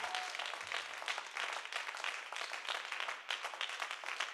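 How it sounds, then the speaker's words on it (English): A church congregation claps hands together in a dense, rapid, uneven patter of many palms that carries steadily throughout at moderate loudness, with no one speaking over it. "Clap your hands and make a joyful noise unto him."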